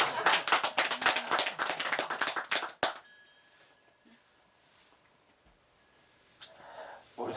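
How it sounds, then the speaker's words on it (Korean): An audience at a Buddhist lecture on the Heart Sutra claps for about three seconds, a dense burst of applause that stops abruptly and leaves near silence with faint room sounds. "박수 한번 쳐줘요."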